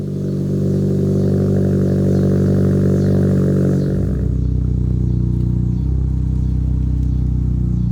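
Hyundai car with a dual clutch transmission, fresh transmission fluid just changed, on a test drive: steady loud engine drone that shifts pitch midway as the car pulls off and changes gear, no talking.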